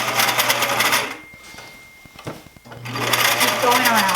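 A sewing machine stitching around the hem of a sloper dress, a fast close mechanical whirr that pauses briefly in the middle with a few clicks before running again, with a voice talking over it.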